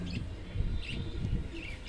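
Budgerigars chirp in short, scattered high tweets against a soft rumbling background.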